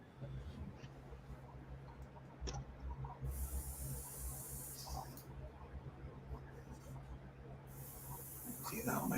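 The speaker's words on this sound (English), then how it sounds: "See now my airbrush" An airbrush sprays paint in two brief, sharp hissing bursts, one near the middle and one at the end, over a quiet room with a low steady hum.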